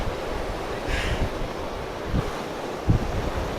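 Fast-flowing river water rushing in Kullu, a loud, steady broadband roar with wind buffeting the microphone and a few low thumps, with no one speaking.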